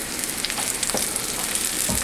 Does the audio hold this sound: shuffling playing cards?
no